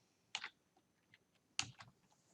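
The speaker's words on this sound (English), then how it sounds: "I'm typing a question mark and then the name of the function" Typing on a computer keyboard, two short clusters of close, crisp key clicks with a few fainter taps between them, in a quiet room with no talking.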